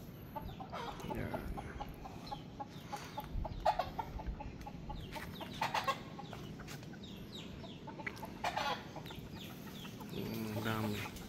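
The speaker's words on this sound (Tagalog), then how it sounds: "may manok dyan guys, oh." A chicken clucks repeatedly at close range over steady outdoor background noise, with short bursts of clucking scattered through and a louder stretch near the end.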